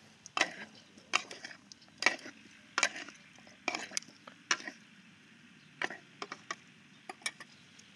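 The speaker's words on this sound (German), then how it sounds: "Das Ganze ein-, zweimal umrühren." Potato salad dressed with rapeseed oil, cress vinegar and fleur de sel stirred in a bowl, giving about a dozen short scraping, clinking strokes in an irregular rhythm, close and fairly quiet, with no talking.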